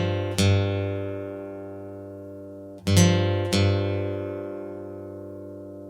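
Guitar strums a two-string chord on the second and third strings that rings out, then a single note on the second string follows twice in quick succession, all clean and sustained with no talking.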